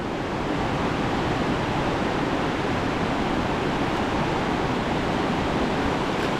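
Strong sea current and waves rush around a fishing boat out at sea, a dense, unbroken roar of moving water that stays loud and even throughout, with no voices.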